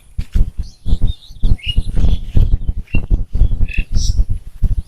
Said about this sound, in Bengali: একদম নিরিবিলি পরিবেশ পাখির ঝিঝি ডাক